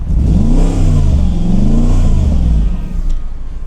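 A Mercedes-McLaren SLR engine revs loud and close through the exhaust, in steady rising and falling surges that hit the soft limiter, with no talking.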